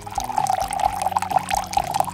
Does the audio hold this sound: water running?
yes